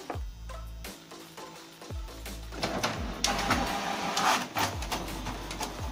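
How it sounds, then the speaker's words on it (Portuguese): An HP 2676 inkjet printer making a black-and-white copy, with rhythmic mechanical clicks and thumps of the print head and paper feed, then a louder whirring stretch, close up. "ele já analisou e já tá imprimindo a cópia"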